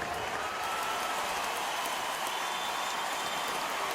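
A basketball arena crowd gives a sustained ovation during a Lakers–Warriors game, an even, roaring wash of cheering and clapping heard at a distance as a broadcast-style background.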